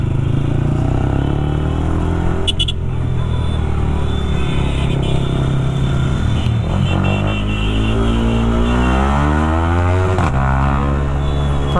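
Bajaj Pulsar NS160 motorcycles with loud exhausts in a street race, engines droning steadily and close up throughout, with pitch rising and falling as the bikes rev and accelerate, and no talk over them.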